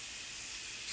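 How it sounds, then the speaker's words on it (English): Seasoned pork chops hit a hot grill pan with a bright, steady hissing sizzle that swells slightly at the end, short and close with no speech. "I'm just gonna throw these onto a hot grill pan."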